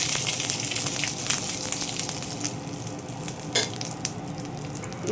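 Cumin and curry leaves fry in a pan while being stirred, a continuous sizzling hiss with scraping stir sounds for a Telugu amaranth-stem curry. A sharper clatter stands out near the middle, and no one speaks.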